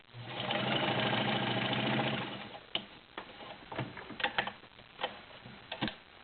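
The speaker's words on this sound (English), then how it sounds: "I'm going to start with just a straight stitch so you can hear it run" A vintage heavy-duty Kenmore Model 33 sewing machine runs a straight stitch in a steady, rapid mechanical whir for about two seconds, then slows into scattered clicks and knocks as it stops.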